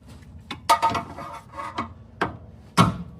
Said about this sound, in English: Gonna have to hammer that thing to go in there